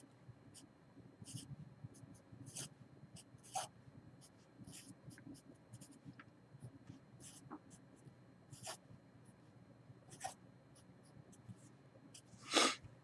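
Pen or marker scratching across paper or a board while a chemical structure is drawn by hand, a steady stream of short, faint strokes and taps, with a few sharper scrapes standing out near the end.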